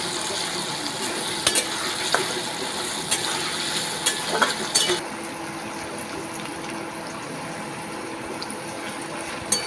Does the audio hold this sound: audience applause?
no